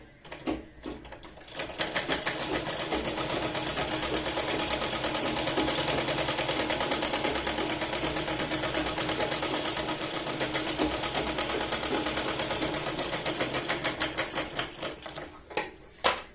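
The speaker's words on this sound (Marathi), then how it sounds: "आता आपण आतल्या साईडने शिलाई लावणार आहोत।" Sewing machine stitching a blouse seam, a fast continuous rattling run of needle strokes that starts after a brief pause and slows to a stop near the end, close and loud.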